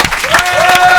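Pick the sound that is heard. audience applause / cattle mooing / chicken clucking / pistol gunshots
audience applause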